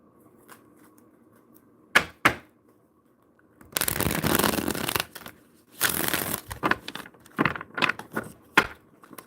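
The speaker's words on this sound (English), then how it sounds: "I'll do one more shuffle" Tarot cards being shuffled by hand, with two sharp taps followed by two longer riffling bursts and a run of shorter flicks and snaps, close and fairly quiet with no talking.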